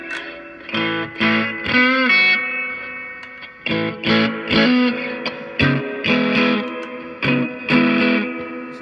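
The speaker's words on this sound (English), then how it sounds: "let's do 9 on the distortion and half on the volume" Electric guitar through a 1978 Roland GA-20 solid-state 12-inch amp with the distortion set high, playing loud, gritty chords and notes in short phrases with brief pauses between them, no talking.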